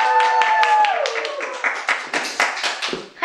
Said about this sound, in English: can we please have a big round of applause for Alexandra